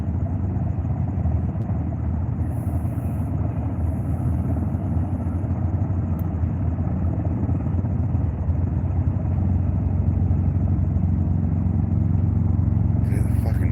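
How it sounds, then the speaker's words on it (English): Military helicopters lifting off from a Navy base on San Diego Bay give a loud, steady low rotor and engine rumble that fills the whole stretch without a break, heard from outdoors at the water's edge. "there's fucking helicopters leaving out of there like crazy all of a sudden."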